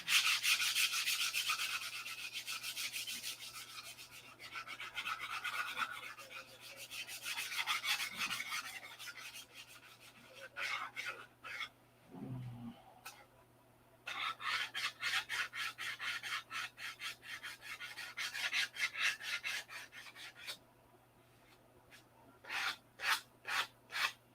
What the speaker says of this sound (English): we'll just take that off and sand it out in hand